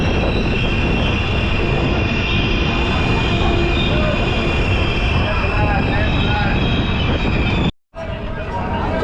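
Passenger train arriving at Bandikui Junction in India, a loud continuous rumble of wheels and carriages with faint squeal and station noise, heard close from aboard and cut briefly near the end.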